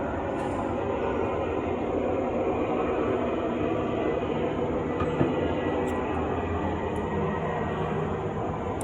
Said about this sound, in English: I'm gonna let the airplane go past.